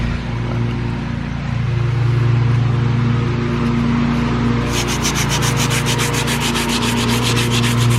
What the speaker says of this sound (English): So after lots of wet sanding,